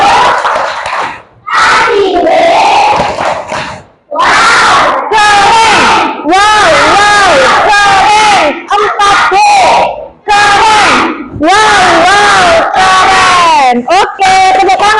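Class 4B schoolchildren loudly shout a rhythmic clap chant together, bursts of group voices and claps in quick phrases separated by brief pauses, close and very loud.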